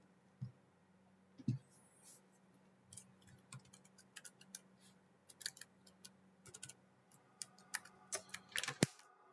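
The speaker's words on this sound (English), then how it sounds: "Why is my keyboard breaking?" Rapid, uneven clicks of a computer keyboard being typed on close by, bursts of keystrokes with brief pauses, a faint low hum underneath.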